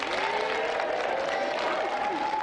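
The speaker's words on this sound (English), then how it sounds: "Round of applause for Mel." Studio audience applauds a guest on a games show, dense steady clapping filling the whole stretch at an even level, with faint voices mixed in.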